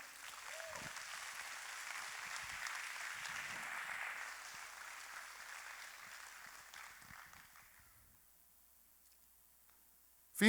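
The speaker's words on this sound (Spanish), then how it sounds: "Denle un aplauso al Señor" Soft, distant applause rises from a Spanish-speaking church congregation during a sermon, a steady patter lasting several seconds before tapering into near silence.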